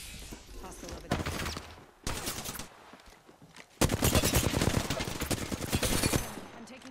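Automatic gunfire in the battle royale shooter Apex Legends, with long rapid bursts at close range, broken by brief pauses and a quieter stretch before a heavy final barrage.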